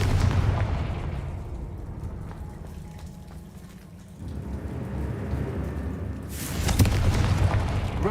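A Confringo blasting spell explodes in the Hogwarts Legacy video game with a deep rumbling boom. The blast swells and fades, and a second sharp burst comes later over a dark ambient background.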